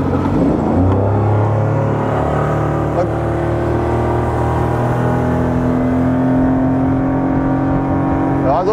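A self-built motorboat on its maiden voyage accelerates hard, its loud engine drone rising steadily and close throughout, with water rushing beneath.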